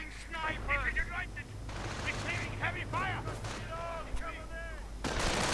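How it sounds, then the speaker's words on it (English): Anti-tank guns open fire during a 1v1 wartime strategy video game match with a Sherman tank nearby, the repeated booming shots sounding close and heavy beneath continuous commentary. "anti-tank guns opening up"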